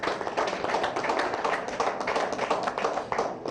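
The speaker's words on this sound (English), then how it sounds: "Let's give them a round of applause." A round of applause for tournament sponsors in a sports setting, a continuous burst of clapping from a group, moderately loud and steady over a few seconds.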